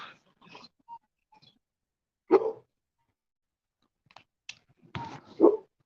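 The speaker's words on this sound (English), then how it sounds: "Crazy dogs." Dogs bark in a few short, scattered bursts separated by near silence, some sharper and louder than others, heard alone with no talking.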